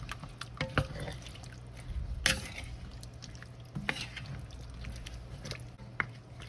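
Potatoes and ground beef get stirred in beef broth, giving soft wet squishes and scraping spoon knocks at an irregular pace, close and fairly quiet with a faint background hum.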